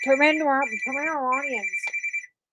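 A telephone rings with a warbling electronic tone, then a string of short rapid beeps before cutting off; no talk over it.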